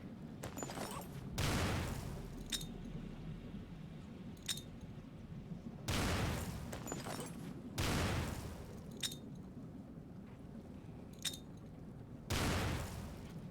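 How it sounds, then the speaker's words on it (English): Grenades explode in a video game as four loud, sharp blasts with short ringing tails, spaced unevenly across a steady low background rumble. "And you're just going to chunk grenades."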